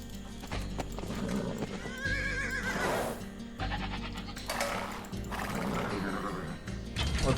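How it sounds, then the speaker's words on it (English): Horses in a Seljuk medieval strategy video game neigh and whinny several times over steady hoof clip-clop, loud and close with game sound effects layered in. "Ah, I see. More horses."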